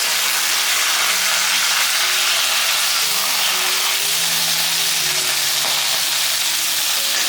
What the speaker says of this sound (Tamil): தூதுவளை இலையை நல்லா வதக்கிக்கலாம்.